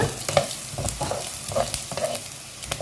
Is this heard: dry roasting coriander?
yes